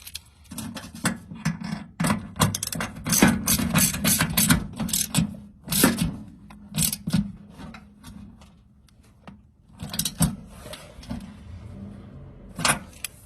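A ratchet clicks in quick bursts while tightening a bolt to mount a horn on a Jeep CJ7, close-up metallic ticking with short gaps and clinking of tools.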